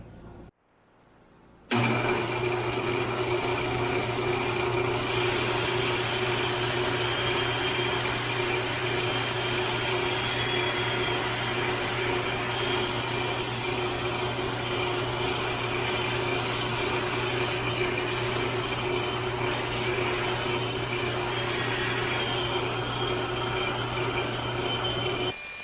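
A metal valve tube for a wind chime spins on a lathe while being polished, a loud steady motor hum with a grinding, rushing wash over it that starts abruptly and runs unbroken, with no voices.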